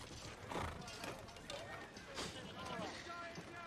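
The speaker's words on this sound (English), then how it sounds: "Just a horse." Horse hooves clip-clopping at a walk in a Game of Thrones scene, several soft uneven hoof falls mixed with light rustling, fairly faint.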